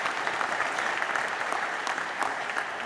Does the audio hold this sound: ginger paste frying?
no